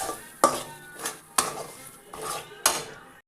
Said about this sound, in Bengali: এখন কড়াইতে ছোলার ডাল পেস্টটি পড়ে গেছে, তা ভালো করে নাড়িয়ে নেব